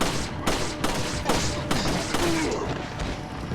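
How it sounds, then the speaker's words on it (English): Gunfire in Resident Evil 4, shooting a downed enemy with a handgun. Roughly eight sharp shots crack at a steady pace over a busy game background. "So when he's down, shoot him with the handgun."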